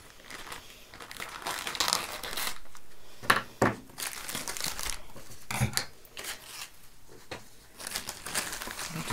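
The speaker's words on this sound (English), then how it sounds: "I'm just going to cut off one of these corner bits here." Scissors snip through embroidered fabric, cutting a corner piece off a hooped machine-embroidery project: close crinkly rustling of cloth with a few sharp, distinct snips spread across the span, no talking.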